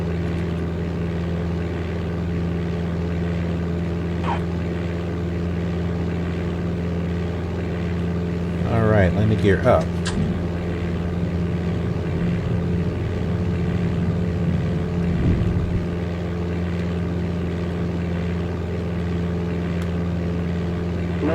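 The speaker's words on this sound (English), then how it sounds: "What I was going to say is that the engine sound sounds different." A steady, low aircraft engine hum drones throughout in Flight Simulator 95 on a flight from Meigs Field to Chicago O'Hare. Someone speaks briefly over it, and a louder burst of activity rises in the middle.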